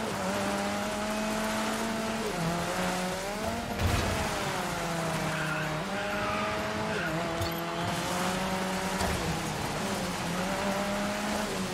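A race car in the DiRT 5 video game drives with a steady, revving engine tone that dips on gear changes, with tire skids and squeals in a continuous mix.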